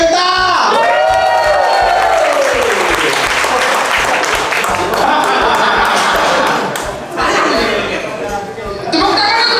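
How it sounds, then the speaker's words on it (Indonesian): Audience at a stand-up comedy open mic applauding comedian Kenta, sustained loud clapping with cheers and whoops, while a voice speaks over the crowd through a microphone. "Kasih saya tepuk tangan yang benar buat Kenta."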